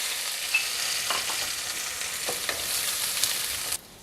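Onion, green chilli and curry leaves frying in a tempering, a steady close sizzle with occasional soft stirring scrapes, cutting off abruptly near the end.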